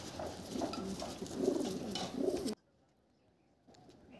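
A pigeon in a loft coos in low, throaty rolling phrases over a noisy background, then the sound cuts out abruptly into near silence before faint noise returns.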